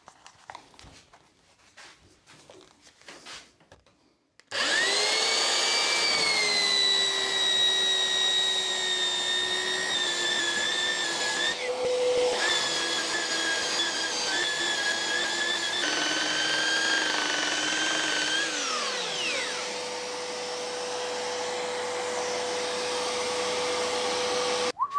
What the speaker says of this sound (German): werden wir mit dem Bandschleifer arbeiten